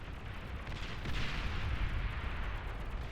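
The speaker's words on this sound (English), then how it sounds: "Dave TB, those are a lot more artillery." Artillery fire from the strategy video game Beyond All Reason, heard as a dense, continuous barrage of rumbling booms and crackles that swells slightly and never lets up, with no talk over it.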